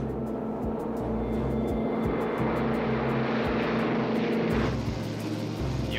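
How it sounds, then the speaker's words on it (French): Steady roar of a TWA airliner's engines building on the runway during its takeoff roll, a continuous loud rumble holding throughout with no talk over it. "TWA-02, autorisé à décoller piste 2-5 droite."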